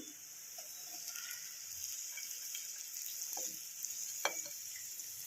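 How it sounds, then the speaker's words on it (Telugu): Prawns frying with ginger in a pan give a steady, close sizzle with a few soft stirring scrapes and clicks. No one talks. "ఈ రొయ్యలను అందులో వేసుకొని మంచిగా వేయించుకోవాలి."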